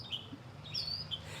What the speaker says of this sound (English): I feel bad talking over the birds